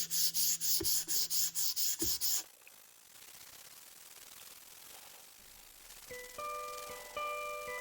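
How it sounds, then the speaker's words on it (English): A small sanding block with 220-grit sandpaper rubs across the fretboard of a century-old double-neck guitar in quick, rhythmic strokes, loud and close for a couple of seconds before fading into quieter workshop noise. "So we're using just a little sanding block here and some 220 grit."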